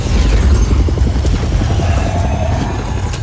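Wing cannons fire in the Just Cause 4 video game, a dense run of rapid booming thuds pounding loudly and steadily over a heavy low rumble.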